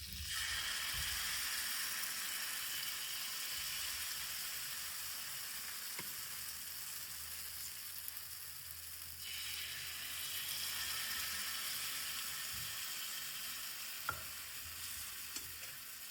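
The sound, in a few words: ghee sizzling in pan for frying malpua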